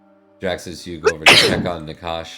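A single sharp sneeze bursts out mid-conversation during a tabletop roleplaying game session, loud and close, with people speaking before and after it.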